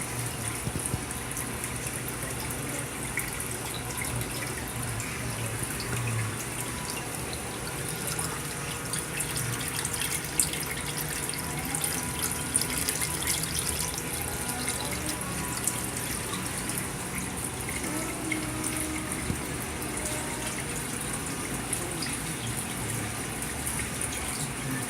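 Water flowing into an aquarium sump and over a couple of spots before a DC-controlled pump sends it back up to the tank, a steady close trickling rush that continues evenly throughout.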